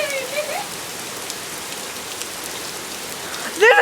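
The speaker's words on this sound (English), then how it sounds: "It's pouring rain." Heavy pouring rain hisses steadily on surfaces, close and constant, with brief speech-like voices at the start and end.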